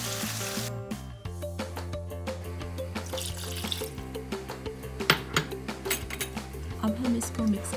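Water, one and a half litres, poured into a pot of roasted mutton for mandi, a steady running gush with clinks of the pot, over a low hum and faint sizzle; a voice speaks briefly alongside.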